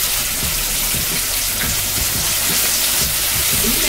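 Chicken pieces fry in a pot of hot oil with steady, loud sizzling and crackling, a continuous hiss with small popping bursts throughout.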